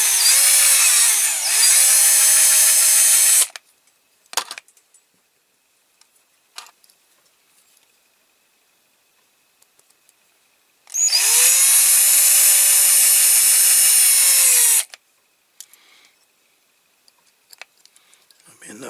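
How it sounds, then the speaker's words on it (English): A small drill bit bores into a Corgi Toys Massey Ferguson 165 die-cast tractor model in two separate bursts, a high motor whine that spins up and winds down, with light taps and clicks in the quiet between. "I'm going to start with a smaller drill bit, and then we'll go to a bigger one."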